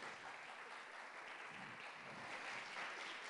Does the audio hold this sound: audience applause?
yes